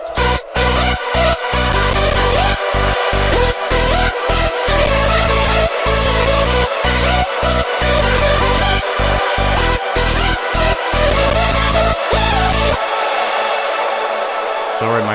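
A bright, dense hardstyle lead and chords play together over a thumping kick, loud and continuous with rhythmic chopped gaps, small stutters here and there, and a sudden thinning of the low end near the end.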